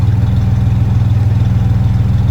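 A car engine with a split exhaust manifold idles with a steady, throbbing low rumble, loud and close, no revving.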